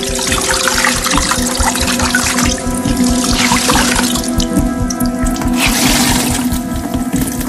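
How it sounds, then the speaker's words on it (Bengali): Buckets of water being poured into a sink, a loud continuous rushing and splashing that stays steady throughout, with no voices. "বালতির পর বালতি ভর্তি লাল রঙের জল সিঙ্কে ফেলে"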